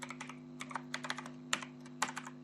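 Someone types on a computer keyboard while writing JavaScript code. The keystrokes are quick and light, close by, and fall in short irregular clusters over a faint steady hum with no talking.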